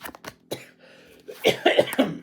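A few short coughs and throat-clearing bursts from a person with allergies, close and fairly loud, separated by brief pauses.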